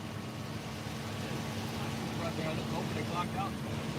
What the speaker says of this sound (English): Why you got the car running?